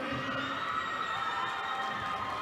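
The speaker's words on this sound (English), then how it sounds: "Has a big cheer from Mosinee." Home crowd cheering at a Mosinee high school volleyball regional final, a dense sustained roar with high shouts blended in, steady and loud throughout.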